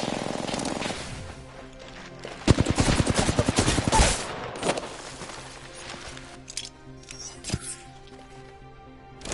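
Rapid automatic gunfire bursts in a first-person shooter video game, a dense volley of sharp shots at mid-clip followed by scattered single reports and game effects.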